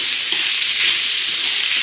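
Green onions and vegetables sizzle and fry in a pan while Maggi noodles are being made, a continuous close hiss with no voices.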